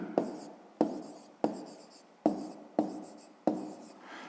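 A pen writes on paper close up in six evenly spaced strokes, each a short scratchy burst that fades quickly before the next.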